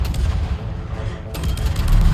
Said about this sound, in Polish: No i znowu strzał od Napoli, oby nie trafił.